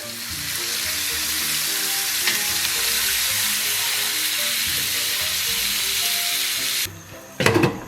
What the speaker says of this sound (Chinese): 再给它简单煸炒一下